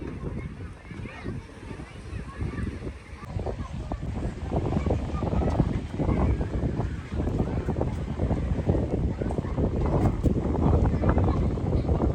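A fishing boat heading out to sea off Perumathura, heard as a steady low engine rumble mixed with heavy wind buffeting the microphone and the wash of water, with people talking nearby.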